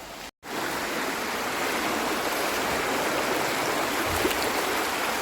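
Strong water gushes from a hose line running down a mountainside, a steady close rushing hiss after a brief cut at the start, with no voices.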